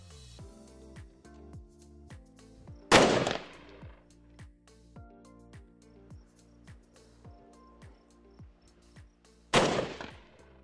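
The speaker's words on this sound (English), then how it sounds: "the origination of the shots being fired" Gunfire from a shooter engaging an enemy position during a field demonstration, two sharp loud shots several seconds apart standing out over a quiet electronic background, no talk.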